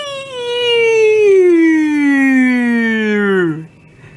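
A single electronic siren from a Midland ER50 radio alert wails in one long, slowly falling tone before cutting off abruptly, loud and close with no talking.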